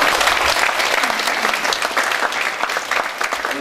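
A crowd at a Jeonju forum on Jeonbuk's financial industry claps warmly for ten Democratic Party lawmakers, a loud, dense and sustained applause lasting several seconds without speech.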